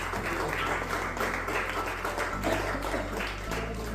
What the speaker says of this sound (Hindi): एक बार जोरदार तालियां देवीश भाई।